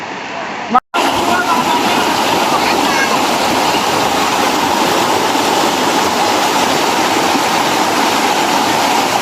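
A waterfall on the river at Ilog ng Istrabiyal in Bulacan pours with a loud, constant roaring rush after a brief knock at the start.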